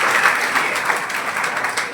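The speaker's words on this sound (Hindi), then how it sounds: "मुकेश जी के लिए जोरदार तालियां" Enthusiastic applause from an audience at a Jaipur gathering for REET and 2nd grade test series students, a dense steady clatter of many hands clapping at once without pause.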